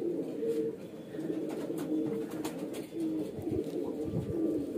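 Young highflyer pigeons coo continuously in soft, low, rolling phrases, close by and steady, with faint chirps in the background.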